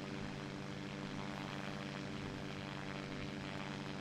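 A propeller airplane in the SimplePlanes VR flight simulator holds a steady, loud engine drone. The constant tonal hum and buzz stays even and unbroken with no talk.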